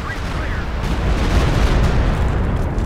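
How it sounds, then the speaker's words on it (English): Stuka dive bomber barrage in a World War II strategy game, a dense, deep rumble of overlapping explosions that swells and stays loud throughout, with talk over it. "Another Stuka barrage."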